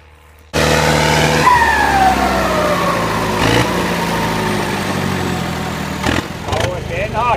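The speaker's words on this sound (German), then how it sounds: "das ist noch ein Traktor, der einen schönen Saus hat" A farm tractor engine runs steadily and loudly close by, starting abruptly after a quiet moment and holding a droning tone with a falling whine, while someone talks over it.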